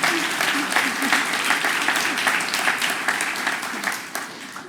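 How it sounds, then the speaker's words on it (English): A packed audience at an evening talk event in Washington, DC breaks into sustained applause, a dense, even roar of many hands clapping close and loud for nearly five seconds, with a little crowd noise mixed in. "that deserves applause"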